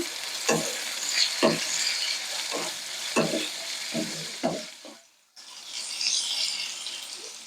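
Onion and tomato pieces frying in a pan while being stirred with a spatula, with a steady close sizzle broken by several distinct scraping strokes and a brief pause before the sizzle resumes.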